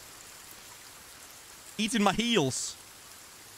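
Steady rain in the video game Sons of the Forest, a soft, constant hiss of falling drops at low level, briefly interrupted by someone speaking over it.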